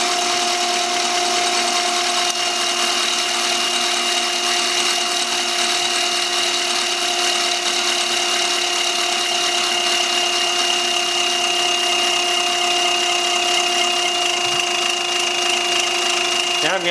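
Diesel DB2 injection pump running at low idle on a test bench, giving a steady whining hum with sustained tones, constant and fairly loud from start to finish.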